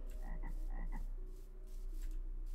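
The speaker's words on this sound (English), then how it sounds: "Oh, it's one of those weird screaming frogs." Frog croaking in the Minecraft video game with the Better Minecraft modpack, a series of short rhythmic croaks over a steady low hum and faint game ambience.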